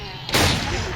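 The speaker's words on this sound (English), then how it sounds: "Sawed-off shotgun." A sawed-off shotgun fires a single sharp, loud blast in the video game Audio Defense, followed by a brief decaying tail.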